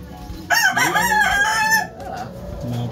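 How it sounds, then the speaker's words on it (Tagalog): A fighting cock crows loudly and close by, its call rising and breaking, followed by softer clucking and low hen sounds as it fades. "Yan, manok niya guys ah."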